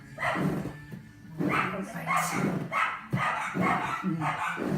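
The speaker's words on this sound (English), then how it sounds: "Sorry, dogs are going crazy." Several dogs bark excitedly in repeated bursts through the whole stretch, fairly close and loud, with some yips mixed in, indoors during a home workout session.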